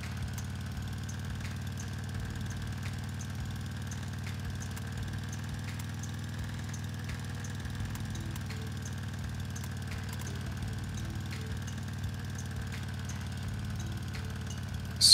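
Aircraft engine in a video game holding a steady low idling drone with a faint whine, even and unchanging throughout, with a slight rise at the very end.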